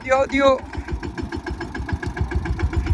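A mini tractor engine idles with a steady, rumbling chug after a brief voice at the start, at a groundnut field.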